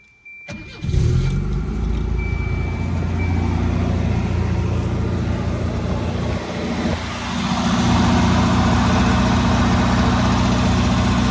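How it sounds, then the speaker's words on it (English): A Volvo 240 engine cranks and catches after a fuel filter replacement, then settles into a steady, close idle that lifts slightly in level partway through and runs on without talk. "we're gonna start the car right now and make sure everything is not leaking and all good"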